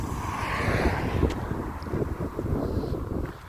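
Wind blusters across the microphone in a steady low rumble, gusting and buffeting throughout with nobody speaking.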